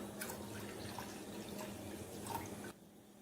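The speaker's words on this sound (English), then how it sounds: "Add equal amount of water to it." Water poured from a glass into a pan holding milk while making badam milk, a soft, steady trickle with faint dripping in a quiet kitchen that goes still near the end.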